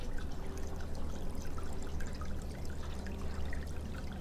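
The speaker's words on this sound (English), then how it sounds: "Can you hear that water flowing?" Tidal water flowing steadily as the tide goes out, a continuous rushing trickle heard close and fairly even throughout with no voices.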